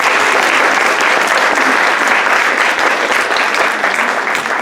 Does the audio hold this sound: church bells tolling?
no